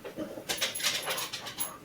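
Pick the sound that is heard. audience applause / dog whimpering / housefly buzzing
dog whimpering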